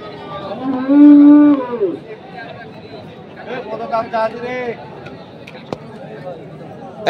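Cattle moo loudly at a livestock market in Dinajpur, one long low call near the start, then a rising second call, with market chatter and talk around them.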